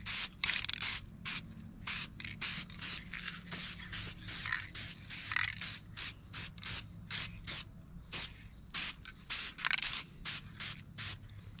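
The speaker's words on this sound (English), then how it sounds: "Now I'm going to give this fish a quick coat of clear lacquer to seal everything in." Short repeated bursts of aerosol clear lacquer hiss across a painted bluegill replica fish mount, about twenty quick sprays in an even rhythm, close and fairly soft.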